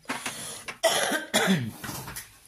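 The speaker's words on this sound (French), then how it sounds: "la fin de mon rhume est là, mais j'ai encore quelques toux" Lingering coughs at the tail end of a cold: a few sharp, close coughs and throat-clearing bursts in an irregular sequence, loud against a quiet indoor room.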